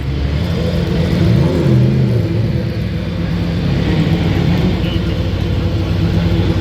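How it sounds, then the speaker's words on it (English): Ford Mustang GT race cars at the Rolex 24 at Daytona fire up and idle, a steady loud low rumble of several engines blending together with occasional revving, continuous and close. "you can hear those gorgeous Mustangs as they start up"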